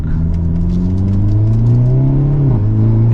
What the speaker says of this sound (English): You can hear those pops too.